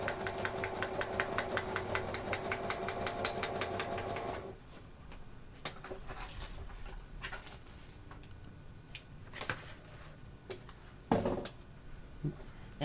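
A sewing machine stitches through paper in a fast, even run of mechanical clatter for about four seconds, then stops, leaving quieter handling noises and a few sharp knocks.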